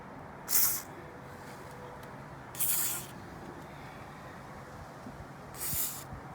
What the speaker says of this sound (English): you can always lube them up with like silicone spray.